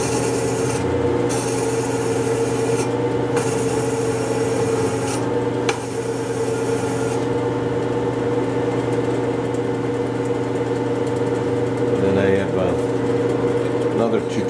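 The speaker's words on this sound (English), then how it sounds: "Another 220 here that I'm using on the back, so I just rub the burr off that I get" A hand plane blade from a Danish wooden smoothing plane rubbed back and forth on 220 grit abrasive to remove the burr, a steady scraping rasp over a constant low hum, with brief pauses between strokes.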